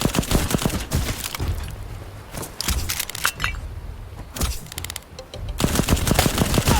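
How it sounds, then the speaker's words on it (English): Turret gunfire in the video game Black Skylands, loud rapid bursts of sharp shots in clusters separated by brief lulls, continuing to the end. "We're gonna have to find a way across here without being hit by the turret."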